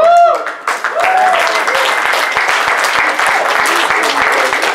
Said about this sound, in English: I want to give a huge round of applause to the gentleman who set this up